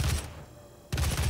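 Weapon fire in the 2017 DOOM video game as an enemy is shot: a short loud burst, a brief lull, then another burst of shots, close and punchy, with no talk.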